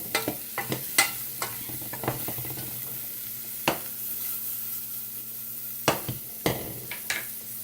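Vegetables sizzling in a pan for quinoa, a continuous low frying hiss broken by scattered clacks and rattles as the pan is shaken.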